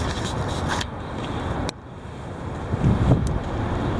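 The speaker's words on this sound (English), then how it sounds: "The heavy wind." Heavy wind buffets the microphone outdoors in a steady, rough, low roar, with a brief dropout partway through before the gusting resumes.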